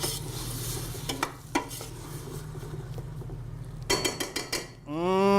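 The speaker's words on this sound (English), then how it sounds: "Give it a little stir." Food sizzles in a pan while a utensil scrapes and clatters against it in several quick stirring bursts, with a soft steady frying hiss underneath; a rising whistle-like tone appears at the end.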